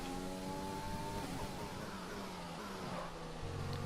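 Race car engine in F1 2020 downshifting through a corner at the Spanish circuit, a steady loud whine with falling harmonic tones as the gears drop, held continuously with no talk.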